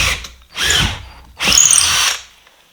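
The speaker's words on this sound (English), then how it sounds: "because you've got a pilot hole, it does make it easier because the drill bit will follow the hole" A power drill bores into a pilot hole while fixings for a sculpture base are prepared at the armature stage, heard as two loud, sustained whirring bursts separated by a short pause, close by with no talk.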